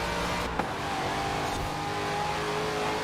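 HSV GTS engine in the Forza Horizon 4 racing game holds a steady, droning rev under throttle, with one brief sharp click near the start and no talk over it.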